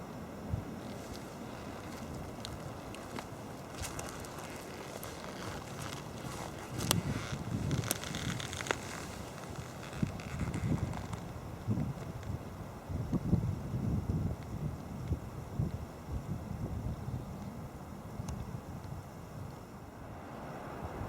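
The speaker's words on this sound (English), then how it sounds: "You hear the wind in the trees." Wind moving through the trees of a deep coniferous forest, a steady broad rushing that swells and eases, heard with no talking over it.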